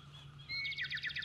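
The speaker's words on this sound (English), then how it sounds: "I hear the bird." Birds at a golf course give a quick burst of high, rapid chirps, faint and alone over a low background hum.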